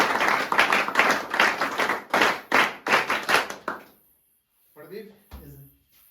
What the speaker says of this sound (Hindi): तालियां प्रदीप बोरा के लिए